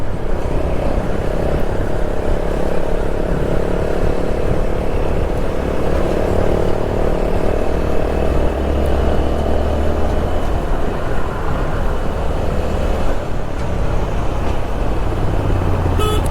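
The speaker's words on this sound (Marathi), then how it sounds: "यार पुन्हा ट्रॅफिक." Dense road traffic rumbles steadily nearby, with engines droning continuously and a faint horn toot near the end.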